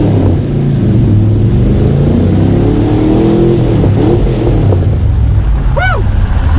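A Chevy V8 engine in a Cobra revs and drives hard, a loud, close, steady roar under heavy wind buffeting, with a brief whoop near the end.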